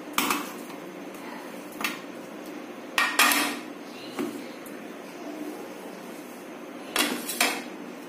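Raw banana pieces dropped into a small steel chutney grinder jar, giving a few scattered clinks and knocks of metal and utensils spread across a quiet kitchen, with no talking.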